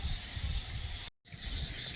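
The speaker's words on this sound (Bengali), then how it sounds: "আর হাওয়ার গতিও খুব বাড়ছে।" Strong storm wind rising at an open-air cooking spot, a loud continuous hiss that cuts out abruptly for a split second before resuming.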